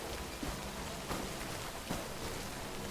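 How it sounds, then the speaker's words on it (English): Rain falls in the Death Stranding 2 video game as a steady, dense hiss of drops on surfaces, with a few soft louder patters and no voices. "this rain might be an issue for them"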